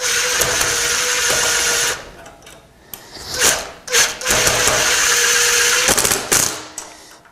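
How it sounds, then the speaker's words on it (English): A cordless screw gun whirs in several bursts as it drives screws snug on a preschooler's tricycle, loud and close, with steady motor whine stopping and starting and sharp clicks between runs. "I'm just going to use a cordless screw gun here."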